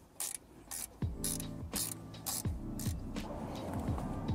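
10mm spanner loosening a bolt on a KTM Duke 790/890 exhaust fitting, a series of close metallic ratcheting clicks and scrapes in an uneven rhythm, with no voices.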